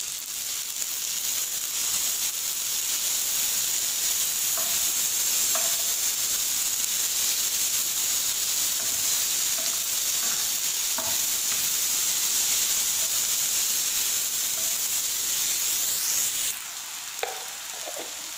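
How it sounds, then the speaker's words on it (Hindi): Finely chopped tomatoes frying in a pan for egg curry, a loud unbroken close sizzle with occasional light spatula taps, easing briefly near the end before a final clink. "टमाटर जो है अच्छे से हो चुके हैं फ्राई"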